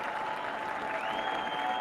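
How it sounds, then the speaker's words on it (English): A baseball crowd at a Bowie versus Somerset game claps and cheers in a steady, dense wash of applause, with a faint whistle-like tone running through it and no clear voices on top. "the crowd starting to come to life"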